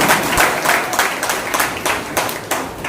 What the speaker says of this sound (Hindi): ननंद सास बहू माताएं बहुत ताली बजा रही है।